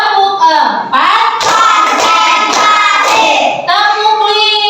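Voices chant a counting clap game in unison in a school classroom as a run of quick, rhythmic hand claps punctuates the middle.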